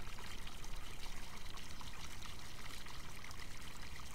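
Diesel pouring at a fill station by the water in Farming Simulator 19, a steady close trickling stream of fuel flowing without pause.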